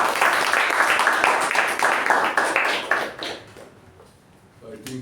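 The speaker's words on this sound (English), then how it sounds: "Please give a round of applause for Toastmaster Jyothi." Applause from a Toastmasters meeting audience for a speaker, steady overlapping clapping that fills the first three seconds and then fades out to near quiet.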